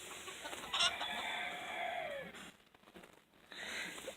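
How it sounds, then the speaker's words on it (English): Backyard chickens cluck and murmur close by, with a brief louder squawk early on and a drawn-out crowing call, over quiet outdoor background and a short lull before the clucking resumes. "These are my chickens."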